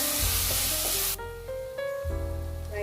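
Tomatoes sautéing in oil with masala for bread chilli: a bright sizzle at the start that drops into a quieter hiss, with a low hum running underneath the frying pan.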